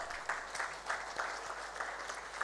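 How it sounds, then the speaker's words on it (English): An audience at an international trade seminar applauds a welcomed guest with a steady, soft wash of clapping that runs for a few seconds at a moderate distance. "Please a round of applause for her."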